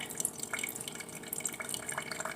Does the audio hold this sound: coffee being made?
yes